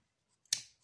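Scissors make a single crisp snip through paper for a Christmas drum craft, a sharp close cut with a brief rustling tail in an otherwise quiet room.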